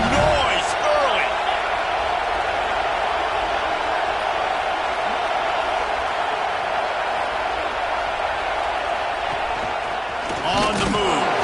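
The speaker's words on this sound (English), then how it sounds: "This crowd bringing the energy and noise early." A college football stadium crowd roars steadily for several seconds, a dense, loud wash of voices with brief sharper bursts near the start and end.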